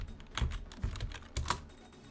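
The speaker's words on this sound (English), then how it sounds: "type in Roblox" Keystrokes on a computer keyboard as someone types a word into a web browser, a few short clustered bursts of clicking close up, with no voices.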